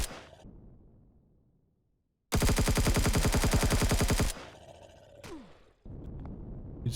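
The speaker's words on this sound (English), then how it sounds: "Who's firing at me?" Sustained automatic gunfire in the sci-fi survival game Empyrion Galactic Survival, a loud rapid two-second burst inside archive tunnels, with scattered single shots and whooshes after it.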